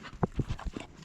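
An indoor dog shuffles and steps about, several quick close taps and scuffs in an uneven rhythm, with no talking.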